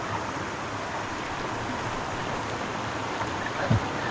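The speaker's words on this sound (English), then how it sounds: "So this is Miners Creek, which flows into Lake Superior." Tannin-rich Miners Creek runs toward Lake Superior, a steady broadband rush of flowing water that holds even throughout with no voices, and one brief low thump near the end.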